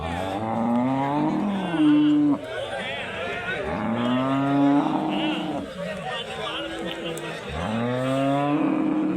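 A cow moos three times, long low calls rising and falling, close by, with background chatter and noise from a crowded cattle market in Bagalur, near Hosur.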